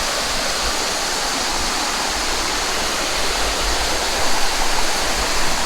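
Laurel Fork Falls waterfall in the Jocassee Gorges of South Carolina, a loud, continuous rushing roar of falling water, steady and alone with slight swells near the end.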